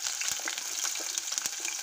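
Rohu fish pieces fry in hot oil for an eggplant dish, giving a steady, bright sizzling hiss with small pops and crackles, close and continuous through the short moment without talk.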